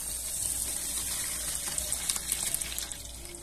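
Water mixed with beetroot food colouring is poured steadily into a container while making homemade soap, giving a continuous close splashing gush with no talking.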